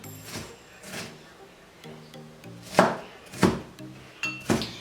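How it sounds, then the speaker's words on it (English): Knife rough chopping onions on a cutting board, a handful of sharp separate knocks spaced unevenly, close and fairly crisp against a quiet kitchen background. "I'm just rough chopping up some onions."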